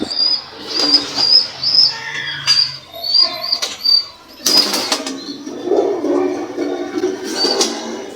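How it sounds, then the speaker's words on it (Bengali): Sirazi pigeons in a new loft coo and rustle, soft throaty calls and brief wing flaps near and far, with a few sharp knocks and shuffling noises mixed in; no one speaks. "এখানে নতুন লফটে এসে আমার সিরাজি কবুতর ডিম দিয়েছে।"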